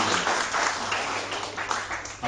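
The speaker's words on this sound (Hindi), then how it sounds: "ताली बजाना चाहे प्रभु के लिए" Congregation at a church service clapping for the Lord, steady crowd applause filling the room, loud and continuous.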